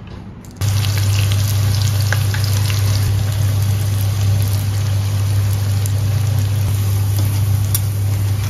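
Peanut rempeyek batter frying in hot oil, a steady loud sizzle that starts abruptly and continues unbroken for several seconds, close up with no talking.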